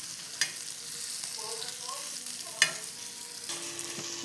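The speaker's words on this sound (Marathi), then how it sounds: "आता या साईडून पण तिला आपण फ्राय होऊन देऊया" Mixed fish pieces fry gently in a pan, giving a faint, steady sizzle with a few sharp clinks and spatula scrapes at intervals.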